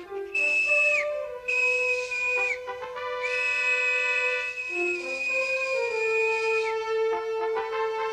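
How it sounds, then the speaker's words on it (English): A gnome in a cartoon whistles loud, sustained tonal calls in several long phrases with short gaps, the pitch sliding between notes over steady musical accompaniment. "I'll whistle."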